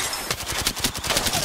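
A Volt submachine gun in Apex Legends fires a rapid, sustained burst of sharp, evenly spaced shots, loud and close, with no talking.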